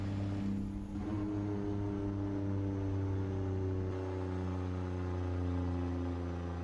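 A heavy truck engine in American Truck Simulator, a customised 389 model, drones steadily and loud with a deep, even rumble that holds throughout, with no voices.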